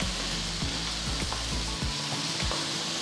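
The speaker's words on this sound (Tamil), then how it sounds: "ஸோ பொடியாக நறுக்குன 3 பெரிய வெங்காயம் இதில் சேர்த்துருக்கேன்." Three large finely chopped onions frying in hot oil for an egg curry, giving a steady, close, even sizzle throughout with no talk.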